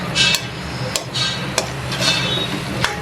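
Metal spoon scraping and clinking against a pan while vegetables are stirred with a chilli powder spice mix, several sharp taps spaced about half a second apart over a soft sizzling bed.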